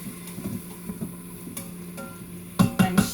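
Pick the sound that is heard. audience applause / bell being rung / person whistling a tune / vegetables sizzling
vegetables sizzling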